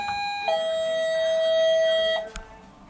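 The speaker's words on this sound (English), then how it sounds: "a functioning door, little doorbell" A two-tone electronic chime rings out, a short higher note sliding into a long sustained lower tone, then a brief click.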